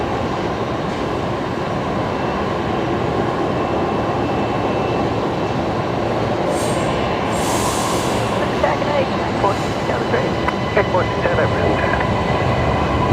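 A Rex Saab 340 turboprop taxis at Brisbane Airport, its engines a loud, steady broadband roar and hum that holds evenly throughout without clear changes.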